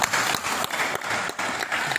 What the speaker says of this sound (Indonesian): Tepuk tangan untuk Perjalanan.